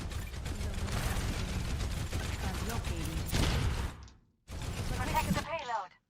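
Rapid SMG fire from Overwatch, shot at an enemy barrier, forms a dense clattering burst for about four seconds, breaks off briefly, then returns for another short stretch.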